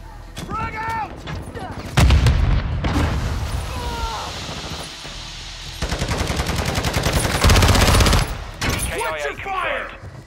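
Frag grenade thrown and exploding in the Call of Duty video game Kill Confirmed mode, heard as loud, heavy blasts amid rapid gunfire bursts, with shouting game voices between them.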